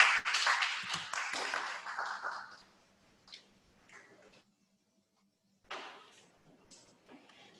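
Applause from a lecture audience at a Seoul National University AI institute talk on education, a dense burst of clapping that is loudest at the start and dies away within about three seconds, followed by faint scattered sounds.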